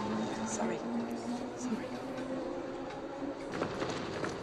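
Underground train running through a tunnel in a film scene, a steady rumbling rush with a sustained tonal whine, heard under voices talking and reacting throughout.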